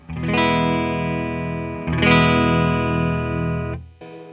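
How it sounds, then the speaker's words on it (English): An electric guitar is strummed twice on the neck pickup, producing a warm, full, bassy chord that sustains and rings, with a touch of effect shimmer, close and loud. "it's all coming out of this pickup, the neck pickup, so it sounds more bassy"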